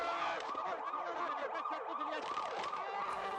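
Ambulance siren wailing in a steady up-and-down cycle, fairly faint and distant, with no talk over it.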